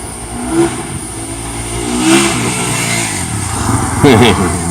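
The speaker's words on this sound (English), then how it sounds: "Motorcycle." A motorcycle passes along a nearby road, its engine rising and revving briefly as it goes by, with a person talking over it.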